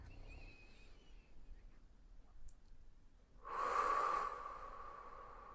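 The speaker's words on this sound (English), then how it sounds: "Exhale the old, inhale the new." Deep breath drawn in and released during a gentle wrist and forearm yoga session: a quiet airy inhale, then a louder, fuller exhale heard close and alone.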